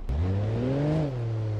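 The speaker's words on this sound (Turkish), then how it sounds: "Arabanın sesi güzel lan bu arada." A car engine revs up steadily, pitch climbing for about a second before easing back to a lower hum, loud and close.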